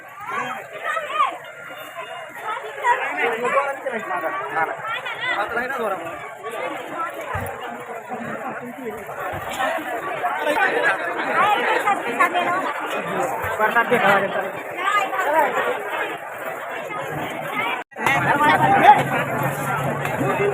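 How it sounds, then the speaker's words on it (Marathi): A dense crowd chatters at the Tulja Bhavani temple in Tuljapur, a continuous babble of many nearby voices with footsteps and general bustle. "मंदिरातली गर्दी अशी फुल झाली"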